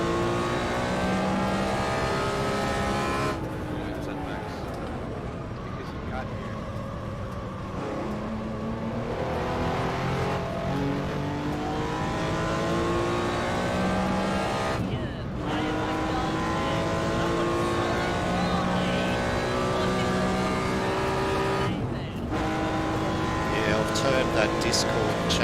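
1964 race cars in a racing sim game at Daytona: a continuous engine roar with rising and falling revs, gear-change dips and shifting pitch, under frequent talk.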